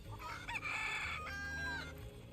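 Video-game chickens crowing and clucking, a clear rooster crow with drawn-out tonal calls over a low background bed, loud and near, with no speech.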